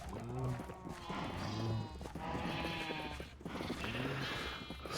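Sheep in Minecraft bleat repeatedly, several overlapping wavering baas from a flock that sound close and continuous, set against soft background game sound.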